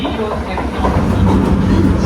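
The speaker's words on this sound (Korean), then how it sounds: "기차 온다" An orange train rolls past in the Japanese countryside near Nagasaki, a loud, close rumble with rhythmic clickety-clack of wheels on the rails, while people talk over it.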